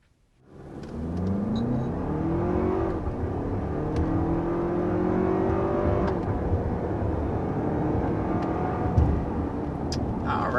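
A 2023 Lexus RX with a 2.4-liter turbo four-cylinder accelerates steadily, its engine note climbing through rising gears in a smooth, continuous hum at moderate loudness.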